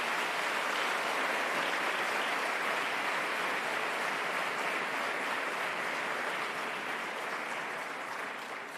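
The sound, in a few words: graduation audience applause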